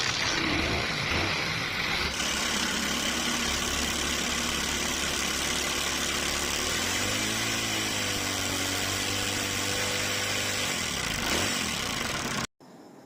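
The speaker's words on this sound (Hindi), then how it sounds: "और बाइक को स्टार्ट करते हैं।" A motorcycle engine with a repaired CDI unit current fault runs at a steady idle throughout, with a brief rise in revs midway, then cuts off abruptly near the end.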